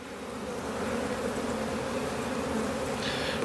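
Dense, steady buzzing of honeybees inside a hive during an inspection of the brood frames and queen cells, close and continuous throughout with no voices.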